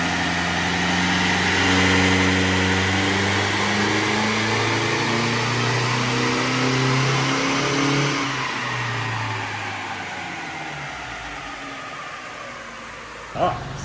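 A Toyota N80 Hilux 48V with a 3-inch exhaust revs hard on a dyno, its engine climbing in a long steady pull, loud and close, then easing off toward idle as a short clunk sounds at the end.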